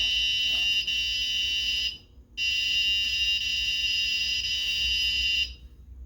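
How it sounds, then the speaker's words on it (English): A shrill, piercing electronic tone from an Arduino radar proximity alarm sounds loudly in two long bursts separated by a short silence, like a buzzer alarm. "so if something gets close, it beeps"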